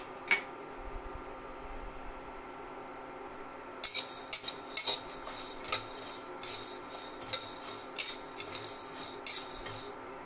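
Coriander seeds tipped into a hot pan for dry roasting, then stirred, giving a quiet rasping, scraping rattle against the metal in repeated strokes, close and alone after a brief faint pause.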